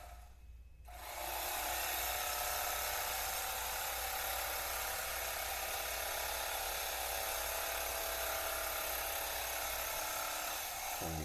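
A machine whirs continuously as it stitches a seam on a bag, starting after a brief quiet moment and holding a steady, close buzzing drone to the end.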